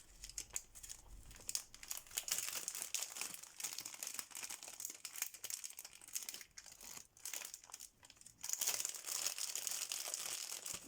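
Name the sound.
opening a paper package from mail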